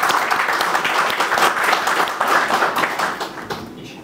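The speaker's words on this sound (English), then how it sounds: "So if you can give yourselves a loud round of applause for doing that." An audience at a talk on activism breaks into a loud round of applause, many hands clapping densely and steadily throughout before thinning slightly at the end.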